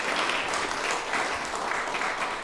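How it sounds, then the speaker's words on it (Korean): Congregation applauding during a Sunday worship service at Oakland United Methodist Church, a dense, steady wash of clapping filling the whole short stretch without any break. "박수해 주세요."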